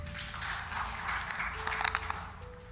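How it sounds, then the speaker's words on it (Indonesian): A church congregation applauds in a dense, moderate wash of clapping that runs throughout, fairly distant and steady, with a sustained tone underneath. "Tepuk tangan buat Tuhan"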